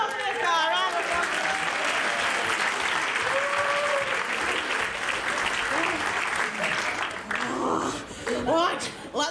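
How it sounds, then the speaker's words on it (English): An audience at a Cambridge Footlights pantomime applauds in a dense, sustained wash of clapping that lasts throughout, with a few laughs and a voice calling out over it before the clapping thins near the end. "Round of applause for this guy, round of applause."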